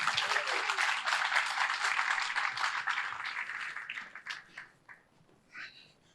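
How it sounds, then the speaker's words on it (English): An audience at a rooftop urban planning event in Rotterdam claps warmly, a dense burst of applause that thins out and fades to scattered claps. "I want warm applause, because we need warmth"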